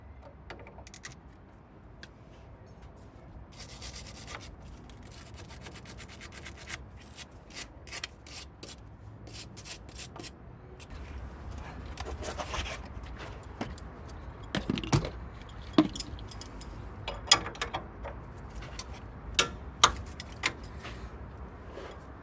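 A split pin being worked out of a Ford Ranger's front suspension, quiet metallic scraping, jangling and small clinks of tools on metal, sparse at first and then more frequent sharp ticks and taps toward the end.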